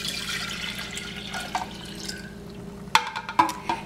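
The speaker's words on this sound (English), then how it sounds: "I'm going to pour out 2 cups of that in a measuring cup, and that goes into my pitcher" Cherry-flavored juice is poured from a measuring cup into a pitcher, a light steady trickle with a few splashy drips and clinks near the end.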